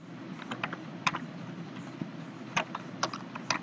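Keys clatter on a computer keyboard in a short, uneven burst of soft taps, close but quiet over a steady low hum.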